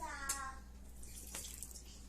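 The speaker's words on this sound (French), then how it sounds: "je vais mettre un peu d'eau encore" Water splashes and trickles briefly into bread dough by hand, a short close pour followed by faint wet sounds, over a steady low hum.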